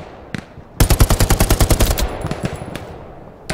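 Machine gun fire in the World War II video game Hell Let Loose: one sharp, loud, rapid burst of about a dozen evenly spaced rounds, followed by scattered distant shots and a final crack.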